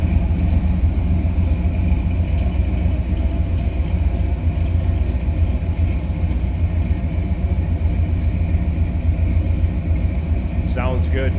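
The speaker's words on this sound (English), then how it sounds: "let's take a listen to it from the side exhaust here" A 1950 Ford F-1 pickup idles with a steady, loud, low rumble from its side exhaust, heard up close and continuous throughout.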